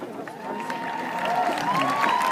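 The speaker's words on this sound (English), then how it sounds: "Big round of applause, thank you." Applause and crowd noise fill a large room at a high school graduation ceremony, steady and moderately loud, with a voice speaking over it.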